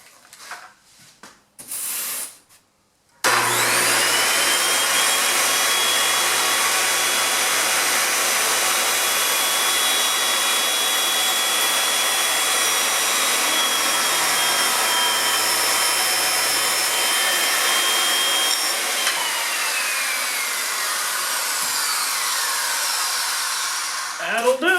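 A power saw spins up and runs steadily for about twenty seconds, loud and close, while making a roughly 10-degree angled bevel cut in a board to fit a window sill for a window air conditioner install.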